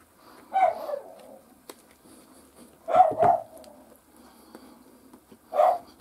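A dog gives three short barks at a distance in a quiet indoor room, with one single bark followed later by a quick double and then another lone bark.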